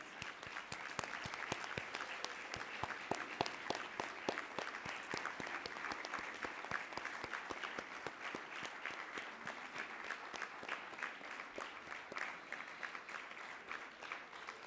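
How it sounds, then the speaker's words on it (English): A crowd gives volunteers a long round of applause at a conference, an even, continuous patter of many hands that is fairly quiet and distant throughout. "please give them a big round of applause"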